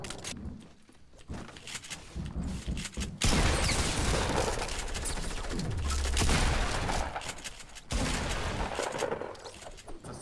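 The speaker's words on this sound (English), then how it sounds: "It's a sniper battle." Sniper rifle shots crack during a Fortnite battle, mixed with other game gunfire and mechanical clicks. Sharp loud reports cut through a dense, busy soundscape in several bursts.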